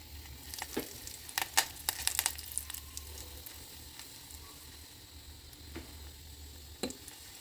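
Black gram lentils, cumin, mustard seeds, curry leaves and dried red chillies temper in hot oil in a pot for a lentil dish. The oil sizzles quietly and close by, with scattered crackles and pops.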